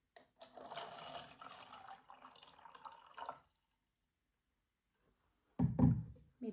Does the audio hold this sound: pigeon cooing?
no